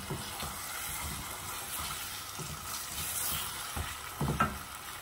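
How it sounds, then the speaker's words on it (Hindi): Chicken sizzling and frying in a pan while being cooked for chicken with chana dal, a steady close crackle with occasional stirring scrapes. "चिकन को अच्छी तरह भून लेना है।"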